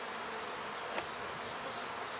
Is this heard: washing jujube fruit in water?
no